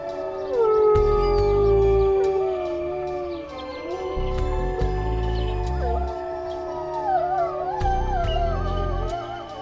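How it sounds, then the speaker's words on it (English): Several wolves howl together in long, wavering, sliding cries that overlap and rise and fall, with a low rumbling noise underneath. "Why do they howl?"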